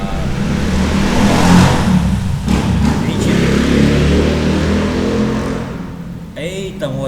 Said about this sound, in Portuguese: Eita, motinha que me persegue essa moto.